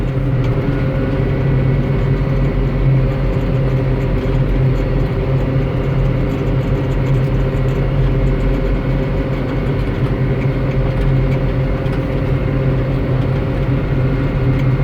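A 2012 Massey Ferguson 6480 tractor engine runs at a steady low idle, a constant deep rumble heard close and loud without any change in speed.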